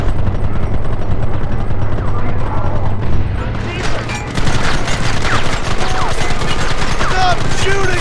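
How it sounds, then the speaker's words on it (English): Rapid, dense gunfire from a Red Dead Redemption shootout, loud and nearly continuous, with sharp overlapping cracks and a low steady drone beneath, and voices shouting in the fight. "Stop shooting at me!"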